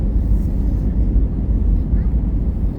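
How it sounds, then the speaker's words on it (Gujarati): A passenger airplane coming in to land at night, heard from inside the cabin as a loud, constant low roar without a break. "પ્લેન હવે ઓલમોસ્ટ લેન્ડિંગ થવા આવ્યું છે."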